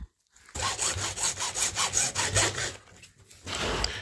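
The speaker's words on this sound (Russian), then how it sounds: "Сейчас мы его распилим, да и посмотрим, что же там внутри." A hand saw cuts rhythmically into a plastic car battery case during a repair, about ten close, scratchy back-and-forth strokes, a brief pause, then more sawing.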